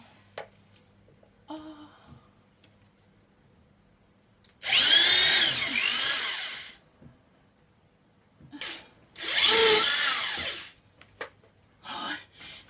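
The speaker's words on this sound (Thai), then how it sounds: "แล้วก็เจาะเลยค่ะ" Two loud bursts of a power drill whirring into a wall, each lasting a couple of seconds, separated by quiet pauses with faint rustling.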